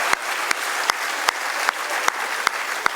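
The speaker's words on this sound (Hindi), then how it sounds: "आप लोग जोरदार तालियां बजाइए।" Audience clapping at a Hindi poetry recital (kavi sammelan), a sparse, light patter of hands with a few sharp claps landing at a steady, roughly even pace.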